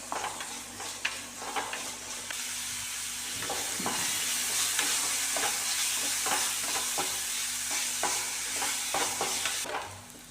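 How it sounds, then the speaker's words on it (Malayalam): Sliced onions frying in a pan with a little salt for masala bonda, sautéed until soft, not browned. A steady close sizzle runs throughout, with repeated scraping stirs and light clinks of the spoon against the pan, and no voices. "സവാള നന്നായി മൂത്ത് വരണം അങ്ങനെ ബ്രൗൺ കളറൊന്നും ആവണ്ട നന്നായി വഴണ്ട് വരണം"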